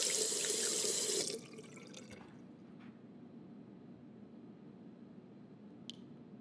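Water running from a tap in the video game Captain Spirit, a steady close splashing stream that cuts off abruptly after about a second, leaving a quiet room hum with a couple of faint clicks.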